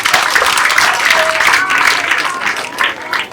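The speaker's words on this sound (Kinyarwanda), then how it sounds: "Mongere kandi mukomere Imana amashyi kubwabo." A church congregation breaks into loud, sustained applause, with a few voices calling out and a speaker audible under the clapping throughout.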